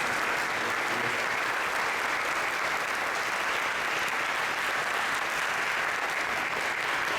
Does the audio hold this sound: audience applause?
yes